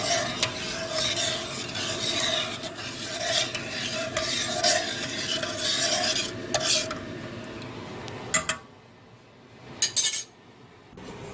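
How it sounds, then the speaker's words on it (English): A spoon scrapes and swirls steadily around the bottom of a pot of sugar water for candied orange peel, close and continuous, ending with a few sharp clinks and a quiet pause. "We'll stir that continuously until it's dissolved."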